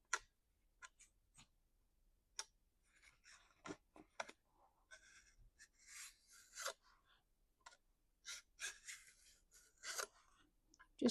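An Oregon deburring tool, made in Germany, rasps along the rough edges of a chainsaw bar in short, dry scraping strokes, scattered and irregular, close and fairly quiet with light clicks between passes.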